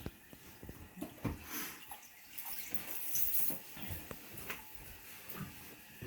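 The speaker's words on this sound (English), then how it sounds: "Now we can turn the water on and fill up the tank, check for leaks." Water rushing into a toilet tank during a home toilet replacement, a faint steady hiss and trickle with small irregular knocks and drips, close by and without voices.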